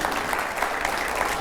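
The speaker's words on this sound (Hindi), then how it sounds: "स्वागत करता हूं तालियों के साथ रविशंकर प्रसाद जी का" A television studio audience gives steady, full applause to welcome politician Ravi Shankar Prasad, a dense continuous roar of clapping with no voices cutting through.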